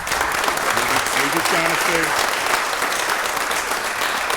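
A Pittsburgh City Council meeting audience breaks into steady applause, loud and continuous, while a voice speaks briefly over the start of it.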